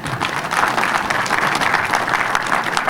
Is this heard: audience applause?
yes